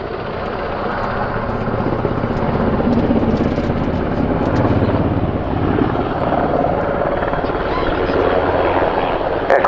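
A military transport helicopter from Transport Helicopter Regiment 10 during a tactical flying display at an airshow, its rotor thumping and turbine roar loud and continuous, with a commentator talking over it on the public address.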